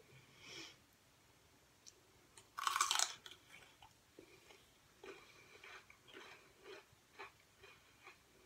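Crunchy celery being bitten and chewed close to the mic in a quiet ASMR eating session, with one loud crisp bite followed by a run of softer, rhythmic crunches.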